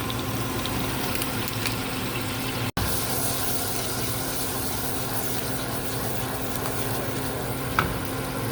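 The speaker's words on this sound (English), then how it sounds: "we're gonna take this bird's eye rice cauliflower, savory herb, and saute it up here" Bird's Eye savory herb cauliflower rice sizzles in a skillet of pan drippings, a close, steady frying hiss with a brief cut partway through and a faint clink near the end.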